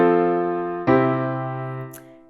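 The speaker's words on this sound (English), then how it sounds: "a plagal cadence goes from chord 4 to chord 1." A plagal cadence moves from a held chord four to a freshly struck chord one, both sustained and ringing close, the final chord slowly decaying alone.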